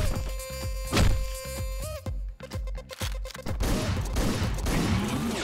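Rapid, loud gunfire in Hotline Miami, with repeated shots and bursts of blasts over a pulsing synth soundtrack, dense and continuous throughout.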